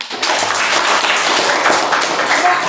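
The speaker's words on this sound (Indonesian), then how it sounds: "Oke, tepuk tangan" An audience at a village radio broadcast event in Yanggandur, Papua, breaks into steady, fairly loud clapping that continues throughout, with a little background voice mixed in.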